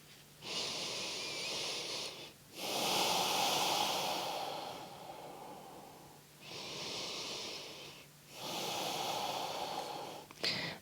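Slow, deep breathing during an evening yoga neck and shoulder stretch: four long breaths in a steady rhythm, each a breathy hiss lasting about two seconds, close to the microphone, with short pauses between and no talking.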